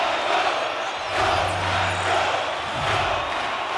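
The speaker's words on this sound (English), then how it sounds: "Here in the later stages of this period, you can feel the energy in this crowd." Ice hockey arena crowd at a tied KHL Gagarin Cup game between Avtomobilist Ekaterinburg and Neftekhimik Nizhnekamsk, a steady loud roar of cheering that swells in waves, with low rumbling chants underneath.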